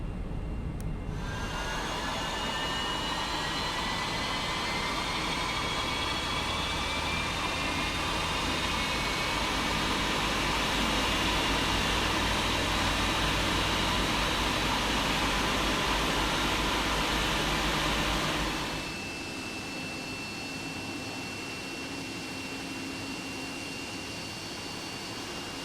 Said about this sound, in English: we'll just start the engine on the right